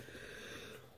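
A single short sneeze, loud and close, from someone opening a Pokémon trading card booster box.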